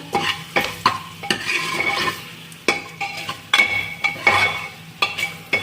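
A spoon stirs turmeric and red chili powder in a frying pan, with repeated scraping clinks against the metal over a soft sizzle, close and irregular.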